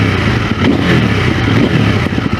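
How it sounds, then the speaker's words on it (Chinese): A 2023 CFmoto 800NK motorcycle in rain mode revs while standing still. The engine note is loud and close, rising and falling steadily as the throttle is twisted, with no voices. "比如现在我的模式是雨天模式，我用同样的油门幅度去拧油门，"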